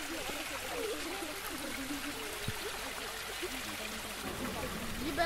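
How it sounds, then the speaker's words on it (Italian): A mountain stream runs over stones in a natural setting, a continuous, even rushing and trickling of water, fairly soft and steady throughout. "potete sentire molto bene il rumore dell'acqua che passa attraverso le pietre"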